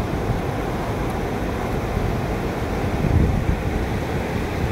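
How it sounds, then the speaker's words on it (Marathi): Floodwater of the Kelna river swollen by late-season rain rushes past in a steady, loud roar of broadband noise, with wind buffeting the microphone throughout and a brief swell near the end; no one speaks. "केळणा नदीला अत्यंत भयानक असा पूर आलेला आहे"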